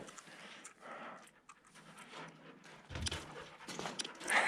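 A dog pants rapidly inside a cave, close and fairly quiet, with scuffling steps and movement as the rhythmic breathing continues.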